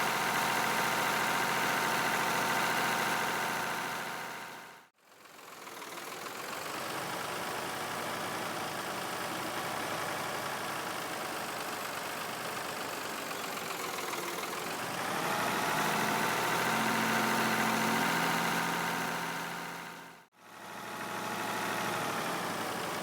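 Tractor engine in Farming Simulator 22 driving slowly, a steady mid-low drone with harmonic hum that rises slightly in pitch midway, cut by two brief dropouts.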